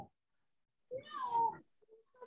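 A single close, clear cat meow rising then falling, followed by a faint short chirp, in an otherwise quiet indoor room.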